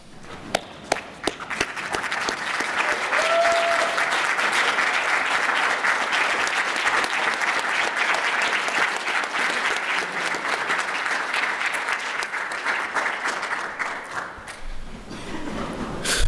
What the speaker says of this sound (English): why don't you guys stand up and give them a round of applause